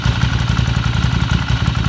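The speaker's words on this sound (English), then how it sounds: "So I'll just give this a little flip of the throttle" A motorcycle engine idles close by, a steady loud chugging with a mechanical clatter and small throttle flickers, with no voices over it.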